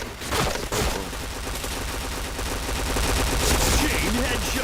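Rapid bursts of gunfire from a shooting video game sound dense and continuous throughout, with automatic fire crackling loudly and players talking briefly over it.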